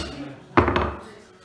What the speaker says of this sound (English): And gently applying with the hammer